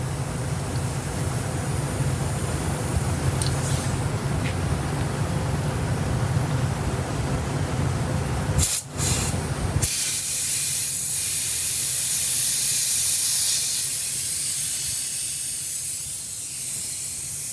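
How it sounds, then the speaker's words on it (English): A makeshift air compressor hooked up during car frame and air ride suspension work hisses steadily and loudly, cutting out briefly, then returning with a sharper, brighter rush of air. "Hook up our makeshift compressor here."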